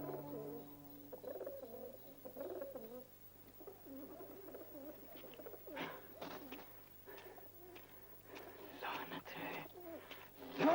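Pigeons coo softly and repeatedly in a scene from the film Junoon, their low, rounded calls running over a quiet background with voices speaking at times.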